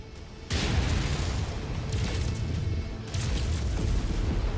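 A destroyed target mech explodes in the Mechwarrior 5 video game, a sudden loud boom that rolls into a rumbling, crackling blast with further bursts following close behind.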